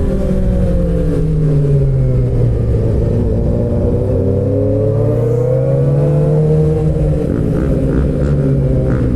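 Suzuki GSX-R motorcycle engine revving hard in first gear, a loud continuous wail that swings up and down in pitch, heard close with no talking.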